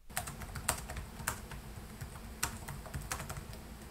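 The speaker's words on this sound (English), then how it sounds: "the key mechanisms have nice firm feedback and I have no complaints about the layout" Typing on the keyboard of a Dell G15 5520 gaming laptop (i7-12700H, RTX 3070 Ti), with firm keys giving steady, moderately paced clicks and a few louder keystrokes, close up and alone with no talking.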